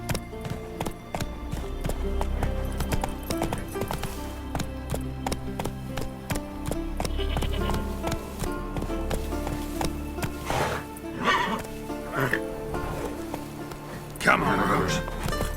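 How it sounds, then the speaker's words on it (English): A horse gallops in The Witcher 3: Wild Hunt on PlayStation 5, with steady rhythmic hoofbeats running throughout over game music and ambience. "Run, Roach"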